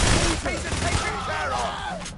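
Rapid automatic gunfire from a high-rate, ammo-hungry weapon in the heist shooter PAYDAY, a dense continuous burst of shots mixed with game effects.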